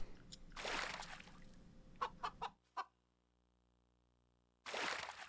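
Chickens in the Shrek Extra Large video game cluck in short bursts between stretches of noisy ambience, with a near-silent pause before the sound returns.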